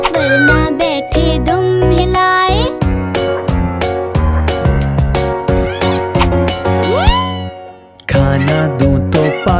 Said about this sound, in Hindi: बिल्ली मैंने पाली है, कान में इसके बाली है।